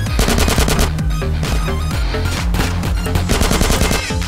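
An AK rifle fires in a GTA DYOM mission video game, with loud, rapid automatic bursts of gunfire repeating continuously in close succession.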